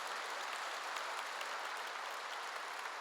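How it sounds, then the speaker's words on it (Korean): Quiet, steady clapping from a church congregation during a sermon, a soft even patter heard from some distance with no voices. "박수 좀 세게 쳐요."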